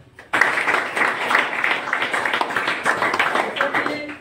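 An audience at a health talk breaks into dense, steady applause that starts abruptly and carries on close and loud to the end.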